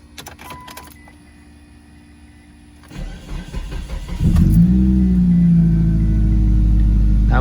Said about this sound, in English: Now let's test the alternator by turning the car on.